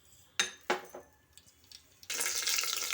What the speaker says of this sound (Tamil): எண்ணெய் காய்ஞ்சதுக்கப்புறமா நம்ம எடுத்து வச்சுருக்கிற கடுகு போட்டுக்கலாம்.